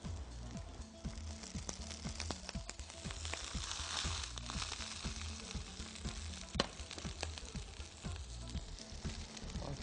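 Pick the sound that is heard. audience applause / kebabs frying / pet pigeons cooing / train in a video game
kebabs frying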